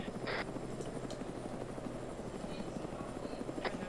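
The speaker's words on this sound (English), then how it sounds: "Helicopter! Helicopter!" A video game helicopter's rotor thuds steadily, loud and close, the chopping drone running the whole time under bursts of other game noise.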